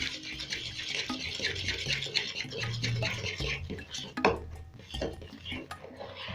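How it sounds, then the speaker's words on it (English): A utensil stirs oat pancake batter in a bowl, scraping and knocking steadily against the sides and bottom. The sound is close and continuous, with no talking. "Then I'm going to mix this till everything is well incorporated."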